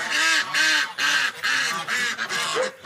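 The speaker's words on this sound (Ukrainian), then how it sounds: "Гуси кричать, бо хочуть на волю" Domestic geese on a farm honk loudly and repeatedly in close succession, a series of harsh nasal calls very near, with no talking.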